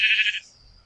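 Sheep bleating in a video game, one short, bright bleat that cuts off quickly, followed by near silence.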